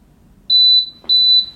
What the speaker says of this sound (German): Jetzt piepst es wieder, ich kann es rausnehmen